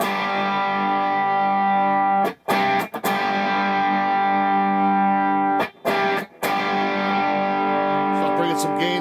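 An electric guitar through a '66 GTO overdrive pedal from EJC Custom Pedals, set as a loud boost with the gain all the way down, rings out in sustained chords with a couple of brief stops between strums, close and loud.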